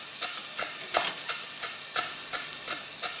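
Large kitchen knife chopping a balled-up bunch of parsley on a cutting board, a steady rhythm of about nine crisp, close knocks roughly every third of a second, with no voices.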